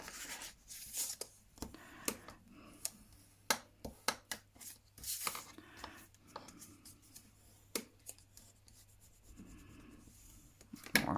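Paper is creased into folds by hand while making a notepad holder for a handbag, producing faint, close rubbing and sharp scraping strokes in irregular bursts.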